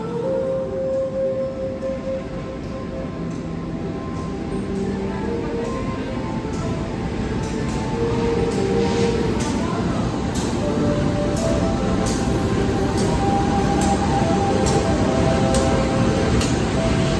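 A passenger train rumbles steadily into Semarang Tawang station on track 1, its low drone swelling louder toward the end, with faint announcements and crowd noise in the background.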